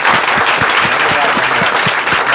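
An audience at a student guidance session claps together in welcome, a loud continuous wash of many hands applauding close by with a steady, even texture.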